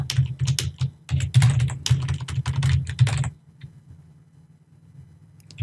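Rapid keyboard typing fills the first three seconds as dense, uneven clicks while a line of code is entered on a computer keyboard, then it stops and near silence follows, with one more keystroke at the very end.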